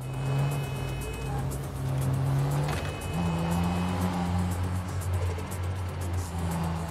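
Car engine droning steadily in the open-world action RPG video game Neverness to Everness, with sustained revving tones that shift pitch as the vehicle accelerates through a city, loud and continuous with no talking.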